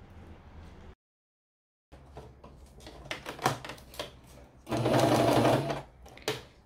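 Sewing machine running in stitching bursts along tape on a crossbody bag, a short pause then rapid whirring runs, loudest in a sustained burst near the end, close and alone.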